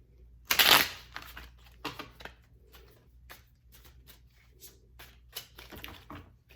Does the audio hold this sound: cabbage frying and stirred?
no